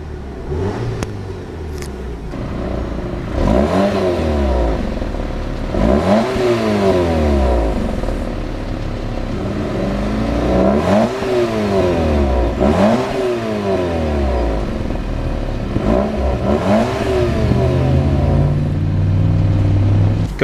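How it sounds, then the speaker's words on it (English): An idling 2012 Audi TT 2.0T Quattro engine is revved repeatedly in a series of rising and falling surges, loud and close, with a steadier drone near the end. "It's a very nice sounding engine."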